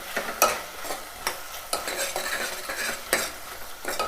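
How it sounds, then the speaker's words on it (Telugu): Ginger garlic paste fries in a pan for a mango-piece pappu charu, giving a steady close sizzle broken by repeated scraping strokes of a spoon stirring it, with no voices. "అల్లం వెల్లుల్లి పేస్ట్ వేగాలి కొంచెం."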